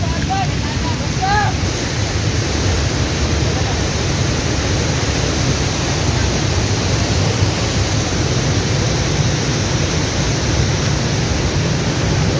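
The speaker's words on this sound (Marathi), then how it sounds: "वॉटरफॉलचा आवाज आहे" Steady, loud rushing water of a waterfall at Bhandardara fills the whole stretch, a constant broadband roar, with a few faint chirps early on.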